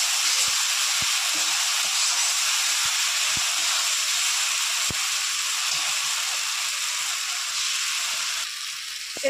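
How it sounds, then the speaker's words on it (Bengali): Masala spice paste for a fish curry frying in a pan, a loud steady sizzle and hiss close up with occasional small pops, continuing alone until it eases slightly near the end. "ভালো করে মশলাটা আমি কষিয়ে নেব।"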